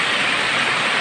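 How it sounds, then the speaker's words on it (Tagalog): Steady morning rain in Tanay, a dense, even hiss that holds at the same loudness throughout, with no voices. "Umaga pa guys, ulan na siya, nag-ulan na."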